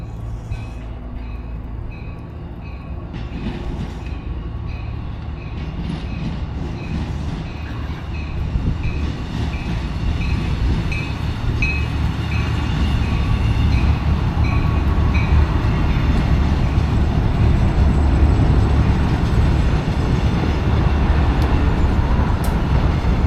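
Reading & Northern RDC rail diesel cars, four units with #9164 among them, pass near Peacock's Lock Viaduct in a loud, steady rumble that grows over the clip, with rail noise and faint high squeals.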